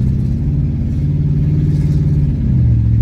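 An older Oldsmobile car with a slipping transmission accelerates under load, its engine droning loud and close with a steady mid-range hum that shifts pitch slightly as the gearbox changes gear near the end.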